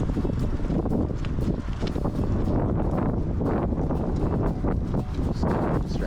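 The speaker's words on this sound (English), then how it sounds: "It's a little windy out, but not too bad." Steady wind outdoors at a dog's practice session, a continuous loud rumbling buffet of gusts across the microphone with no pause.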